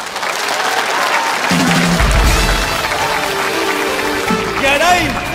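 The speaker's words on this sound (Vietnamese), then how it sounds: "xin quý vị dành tràng pháo tay để đón chào sự trở lại của Quang Minh và Hồng Đào" Theatre audience at a comedy show bursts into sustained clapping and cheering to welcome a comedy duo back onstage, loud and continuous, with a voice speaking over the applause.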